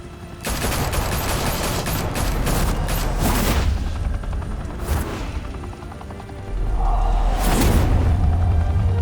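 Gunfire from the Telltale Batman video game: a dense volley of shots opens the scene, followed by scattered bursts and loud booming impacts, with a heavy low rumble swelling near the end and no voices.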